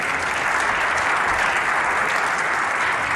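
Sustained applause from a crowd on its feet at the end of a snooker final in Bolton, a dense steady roar of clapping filling the whole stretch without pause.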